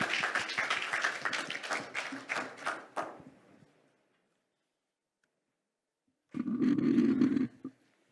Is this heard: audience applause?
yes